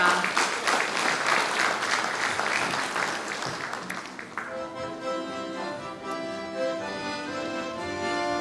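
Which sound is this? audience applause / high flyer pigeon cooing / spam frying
audience applause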